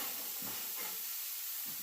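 Steak searing in a hot oiled pan over lowered heat, a steady broad sizzling hiss close by with faint low bubbling and spattering underneath, continuous and without talk.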